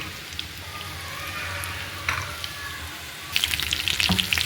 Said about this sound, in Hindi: ये हो रहे हैं हमारे कबाब फ्राई